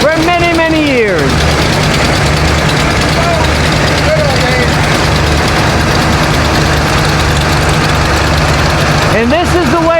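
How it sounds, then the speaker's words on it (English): A loud engine idles and rumbles steadily close by in a parade, identified as a vintage Volkswagen Bug, with revving sweeps near the start and end and people talking over it. "with a vintage Volkswagen Bug, a classic for many, many years"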